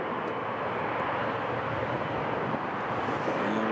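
A Boeing C-17 military transport aircraft at Newcastle Airport makes a steady, broad jet engine roar at a distance, continuous and even with no talk over it.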